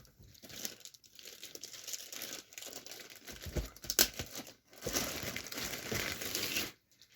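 Packaging crinkled and torn while a Cavalex Class 56 model locomotive in BR blue is unboxed, with close, faint rustling and crunching in uneven bursts.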